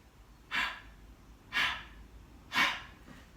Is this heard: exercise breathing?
yes